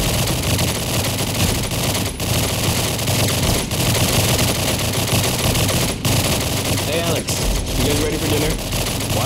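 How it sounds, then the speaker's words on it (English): Rapid bursts of video game gunfire from a shooting range in Call of Duty 4 crackle continuously over a dense, loud background, sounding like automatic weapons firing nonstop at close range. "Sounds like someone's at the shooting range."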